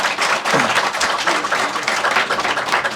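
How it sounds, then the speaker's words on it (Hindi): Audience applause at a commemorative event, steady, fairly close clapping from many hands, fluttering and continuous for a few seconds. "आप तो एक तो तालियों से इनका स्वागत कीजिए"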